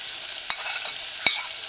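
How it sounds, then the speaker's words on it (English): Diced onion and fried salted codfish sizzle in a pan while a cooking spoon stirs them, with a steady hiss broken by two sharp scraping clicks of the spoon. "use your cooking spoon and stir in the onion with the fried codfish"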